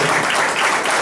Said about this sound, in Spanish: atrás del amigo Fernando, realmente un aplauso para ellos